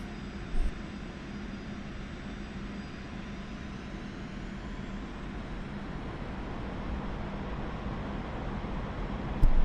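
A Su-25T jet's engine roars steadily in the DCS World flight simulator, a broad, even whine and rumble with brief louder bumps near the start and end, and no voices.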